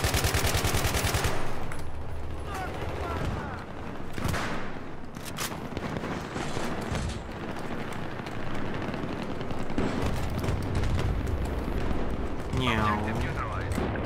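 Battlefield 3 combat on a 64-player server: a grenade blast amid steady bursts of automatic gunfire and distant booms, with people talking excitedly throughout.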